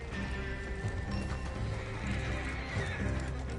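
Horses in Red Dead Redemption 2 neigh and whinny loudly over a steady clip-clop of hooves, with a dense game soundscape rumbling underneath throughout.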